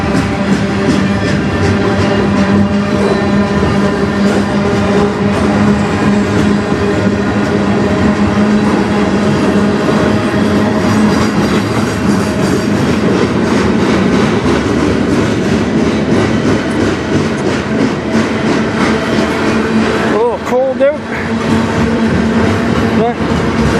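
A CN freight train rolls past at night in Sarnia, Ontario, a loud, steady rumble of rail cars with clickety-clack running the whole way and a brief dip near the end.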